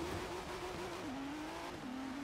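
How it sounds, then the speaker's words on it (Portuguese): A Ford GT's engine drones steadily as the car drives in the video game Forza Horizon 3, its pitch dropping briefly at gear shifts, with no talk over it. "Vamos ver como tá andando esse carro."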